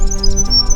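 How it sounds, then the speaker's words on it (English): Bright repeated calls of a grey shrike-thrush ring out in short musical phrases over a low steady background hum, loud and close, on Bruny Island, Tasmania. "So that loud musical call behind us, that's a grey shrike thrush."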